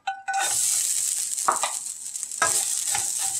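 Grated coconut fries in a pan over medium heat for a manda pitha filling. A steady close sizzle runs throughout, broken by a few scraping stirs, with no talking.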